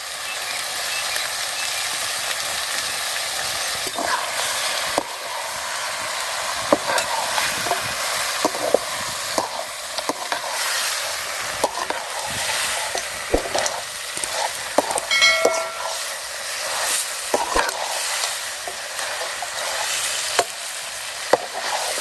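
Meat sautéing in a pan with ginger garlic paste, a steady close sizzle with frequent soft stirring scrapes and clicks running throughout, no talking.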